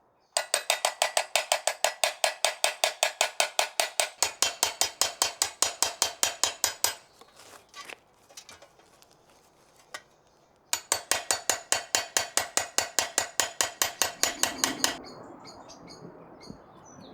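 A hammer taps a scythe blade in rapid, evenly spaced metallic clicks, close and crisp, running in two long bursts separated by a short pause.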